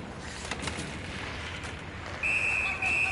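A referee whistle sounds in a PS4 hockey video game: a sustained, shrill tone cuts in near the end over a constant arena-crowd wash.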